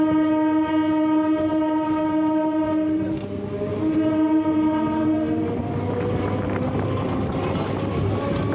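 A Sealdah–Shantipur local train sounds a long, loud, steady horn blast close by, then the rumble and clatter of the running train fill in as the horn fades into continuous rolling noise.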